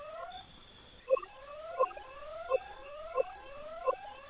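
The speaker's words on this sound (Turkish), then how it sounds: "siren çalmaya başladı." A 4G solar-powered security camera sounds its siren alarm outdoors at night: repeating rising electronic sweeps with a sharp pulse roughly every two-thirds of a second, moderately loud and alone.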